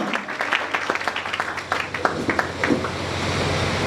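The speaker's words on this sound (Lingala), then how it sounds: "Acclamons pour le Seigneur" Applause at a church service erupts as a dense patter of clapping hands from a congregation, loud and continuous before settling into a broad wash of sound.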